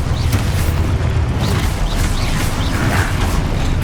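Confringo spell blasts in the video game Hogwarts Legacy, loud booming explosions layered over dense, continuous combat noise with repeated bursts throughout.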